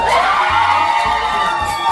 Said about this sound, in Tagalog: Isang pa lang sa palakpakan at sigawan.